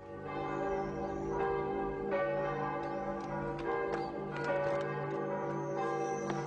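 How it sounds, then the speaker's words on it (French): A village church bell tolls continuously, its struck tones ringing out in a steady rhythm and overlapping in a rich, sustained hum at moderate distance. "achète une nouvelle cloche afin que l'on puisse entendre l'appel du Seigneur de toute la campagne alentour"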